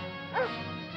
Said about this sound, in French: ce n'est rien qu'un chien sur un écran en 2 dimensions, ça ne mord pas